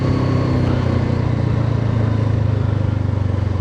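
A KOVE 510 X motorcycle slowing on engine braking alone in gear, with no brakes applied: a loud, steady engine drone whose pitch sinks gradually over a few seconds, recorded close on the bike.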